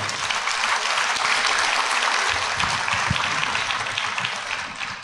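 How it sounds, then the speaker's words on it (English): Sustained applause from a church congregation fills the space, a dense, steady clapping that holds loud and even throughout before easing slightly at the end, with no talking over it. "Can we have a round of applause, please, for the Lord?"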